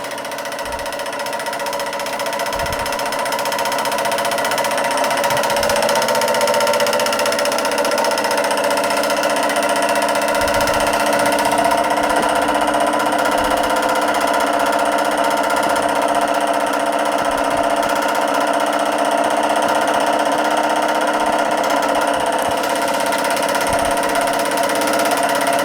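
Josef Falk vertical-boiler model steam engine running steadily, a continuous dense mechanical whirr and rattle with a faint rhythmic ticking. The sound is close and loud and holds an even level throughout, with no talk.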